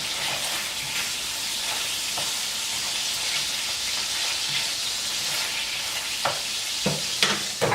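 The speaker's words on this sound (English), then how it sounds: "you're just gonna saute that for a little while." Zucchini spaghetti sautéing in a pan gives a steady, close sizzle and hiss throughout, with a few sharper stirring clicks and scrapes near the end.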